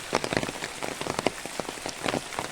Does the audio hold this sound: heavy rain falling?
yes